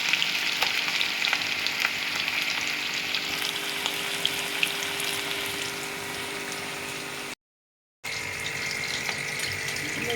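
Fish pieces frying in hot oil in a home kitchen give a steady, dense sizzle and crackle that runs throughout, broken by a brief total dropout before the bubbling resumes.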